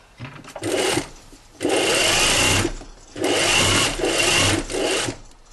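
Sewing machine stitching along the edge of a seam on a jacket pocket, in bursts of steady whirring run close by, about four runs with brief pauses between them.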